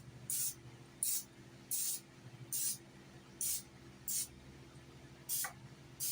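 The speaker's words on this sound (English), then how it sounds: "you need to spray your pan and then pour it up" Cooking spray from an aerosol can hits a cake pan in eight short, crisp hissing bursts with brief pauses between them, close up and with no talk.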